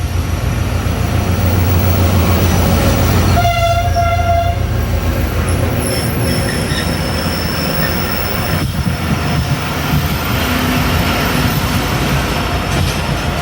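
Sir Syed Express passenger train pulling out of a station, a loud continuous rumble of wheels and cars with a brief horn-like tone early on, while another express stands nearly stopped nearby.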